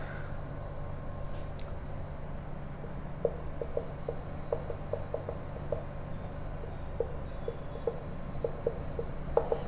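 Chalk or marker writing out math problems on a board, faint scratchy strokes and small taps scattered over a steady background hum, with no speech.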